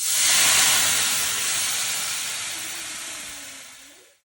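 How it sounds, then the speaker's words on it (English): Loud, close sizzle and steam hiss as apple cider vinegar hits a hot pot to deglaze it, starting sharply and slowly fading before cutting off. "we deglaze with the apple cider vinegar"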